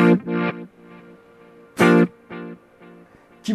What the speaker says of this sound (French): Et puis, un reverb delay